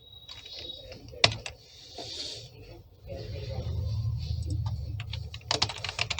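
Rapid keystrokes clatter on a computer keyboard while JavaScript code is typed, bursts of clicks coming in quick uneven runs, close and fairly loud, with a low background rumble between them.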